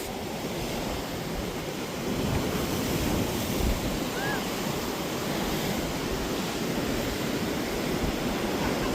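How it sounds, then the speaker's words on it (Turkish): Heavy wind buffets the microphone in a constant loud roar, steady throughout with no other clear sounds, outdoors by the sea in San Diego. "burada herhalde konuştuklarımız duyulmuyordur rüzgardan ya"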